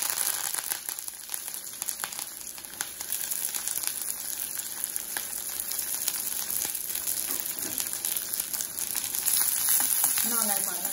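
Small onions, curry leaves and green chillies fry in a pan with a dense, steady sizzle that stays close and loud throughout, with occasional stirring clatter and soft crackles.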